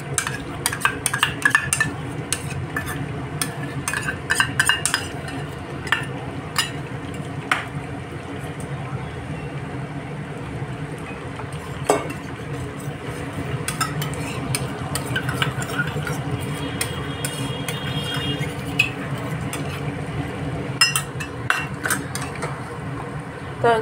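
A spoon stirs curd into cooked vegetables for a vegetarian navratan paneer in a pan over lowered heat, giving steady scraping with scattered sharp metallic clinks against a constant low background hum.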